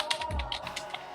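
Brief burst of typing on a computer keyboard, a handful of quick, close key clicks in an uneven rhythm, heard alone in a quiet room.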